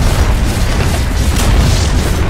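A tower collapsing in a Dota-style MOBA game: a loud, sustained booming rumble of crumbling structure and explosions, dense and steady throughout with no talk.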